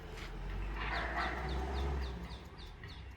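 A puppy answers a dog sound played on a mobile phone with a string of small, evenly spaced yips, faint and at some distance, over a low steady background hum.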